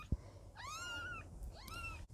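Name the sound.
Birman kitten meowing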